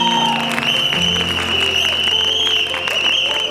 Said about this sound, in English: has to give a ear-shattering applause to what Raghu and Sid have just done on stage